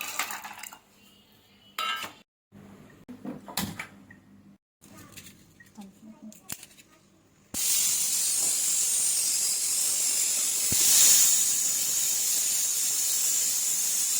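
A loud, steady high hiss of steam from a pressure cooker of chickpeas starts abruptly midway and continues, after a stretch of quieter clinking and faint voices.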